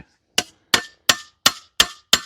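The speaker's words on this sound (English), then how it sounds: "Tapping on a valve with a hammer." Six sharp metallic taps of a hammer striking a stuck engine valve on a car that has sat for 30 years, evenly spaced, loud and close, each ringing briefly with no talking.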